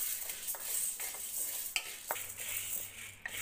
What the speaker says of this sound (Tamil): இப்போ நான் வெறுகாமே வறுத்து எடுத்துக்கிறேன்.